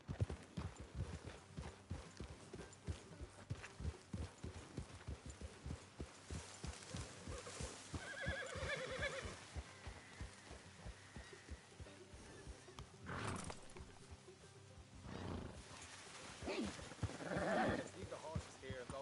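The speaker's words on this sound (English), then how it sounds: "Leave the horses here and go the rest on foot." Horses' hooves clip-clop at a steady trot on a road in the Red Dead Redemption 2 video game, a continuous rhythmic beat throughout with a few spoken lines over it.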